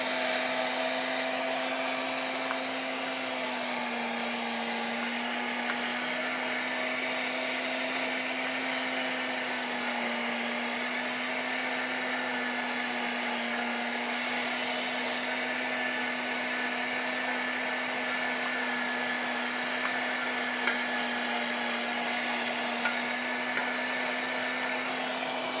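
An electric meat grinder grinds venison with a steady, loud motor whine that holds a constant pitch throughout, dipping slightly now and then as the meat is fed in, with no talking.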